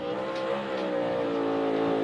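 A NASCAR Cup Series car holds a loud, steady engine roar while burning its rear tires down the front straightaway, the sustained drone close and alone with no talking over it.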